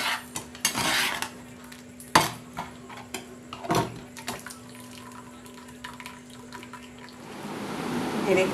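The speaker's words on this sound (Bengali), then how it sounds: "জলটা ঝরিয়ে বাটির মধ্যে তুলে নেব।" Boiled chow mein noodles tipped from a pot into a bowl after draining, with metal clinks and scraping knocks, brief splashes of water, and a soft sizzle rising near the end.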